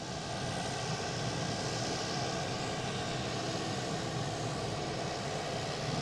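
Steady broadband roar of a JetBlue Airbus A220 on a short hop from Nantucket, passing over Boston Logan airport, loud and continuous with no clear rise or fade, no voices.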